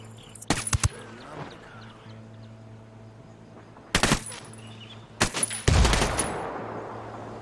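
Automatic gunfire from the video game Ghost Recon Wildlands crackles in three sharp bursts: a quick early volley, then two louder rattles near the end, with quiet game ambience between.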